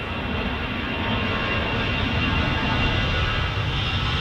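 A jet airliner aborting its landing and going around at Manchester Airport roars steadily and loudly throughout, a continuous engine rumble with no talk over it.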